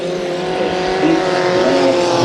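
Race cars roar around the dirt oval at Santa Maria Speedway during a heat race, a loud sustained engine drone with shifting pitch as cars pass close by.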